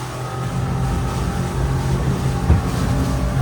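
A Patrol 760 rigid inflatable boat at full throttle, its outboard engine roaring loud and steady with a rising drone and water rush, close by and with no talking.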